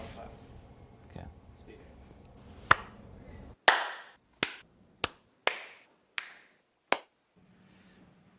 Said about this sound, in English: like a loud clap